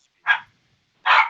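A dog gives two short, sharp barks about a second apart, fairly loud and close, with silence between and no talk.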